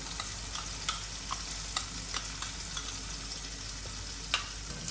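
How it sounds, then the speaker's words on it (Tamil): Ground garlic chutney paste fries in hot oil with a steady, dense sizzle, broken by a few faint clicks of stirring and nothing else. "அந்த எண்ணெய் சூடாக இருக்கு இல்லையா, அந்த டைம்லேயே நம்ம அரைச்சி வச்சுருக்க பேஸ்ட்டு சேருங்க"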